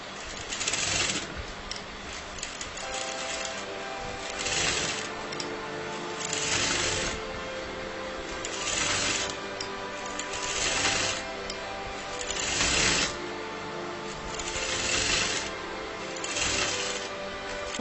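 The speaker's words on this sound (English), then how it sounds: "So I'm going to sew to the exact margin." A sewing machine stitches fabric piping in steady runs of close, mechanical whirring and clicking, its pace rising and falling in regular bursts with no talking.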